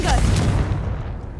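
A Confringo blasting spell goes off in the video game Hogwarts Legacy, a loud, booming explosive burst with a low rumbling tail that fades over about a second, heard alone without talk.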